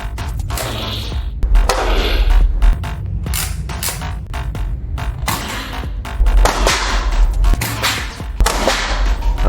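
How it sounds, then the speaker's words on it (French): A Nerf Aliens LMTD M41-A blaster is pumped and fired repeatedly, giving sharp, snappy mechanical clacks and whooshes in irregular bursts at close range, with no talking. "on a le petit bruit de tir du pompe ici."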